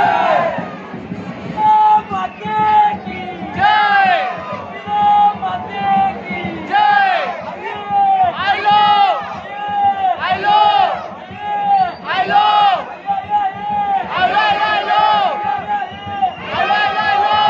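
A dense crowd of devotees at the Ekvira Devi temple near Lonavala roars and chants in loud, surging waves of massed voices, with rhythmic bursts of shouting swelling and falling steadily throughout.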